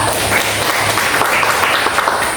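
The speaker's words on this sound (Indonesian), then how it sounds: "kita beri aplaus untuk kelompok 2" Students in a classroom teaching simulation clapping for group 2, a brief, even burst of applause from a small room with no speech over it.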